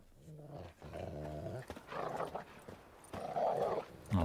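Dogs in the video game The Witcher 3 growl low and steadily at close range inside a courtyard with a workshop, rumbling snarls broken by short pauses and a few louder bursts.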